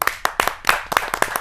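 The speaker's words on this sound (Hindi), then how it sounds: "आपकी जोरदार तालियां मिले नूतन शर्मा जी" Audience members at a Hindi poetry gathering clap to welcome a poet: a short, close run of sharp, bright handclaps with a slightly uneven rhythm.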